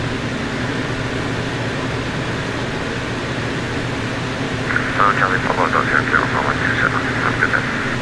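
A steady aircraft engine drone hums throughout a flight simulator session in stormy weather over southern England, with someone talking over it in the second half.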